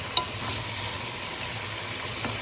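Ingredients for sinigang sa miso with milkfish sauté in a pan, giving a steady close sizzle with a brief clink near the start.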